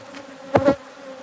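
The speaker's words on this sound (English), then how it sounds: "you can see we're starting to build up like a bunch of bees right here again, because they're coming back out of here" Honeybees from a wild hive being transferred to a new home buzz close by, with two quick swells of buzzing over a steady insect drone.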